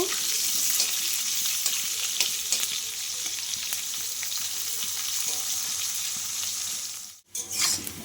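Potatoes and papaya fry in a pan with a loud, dense, continuous sizzle and occasional stirring scrapes up close, briefly breaking off near the end before resuming, no speech.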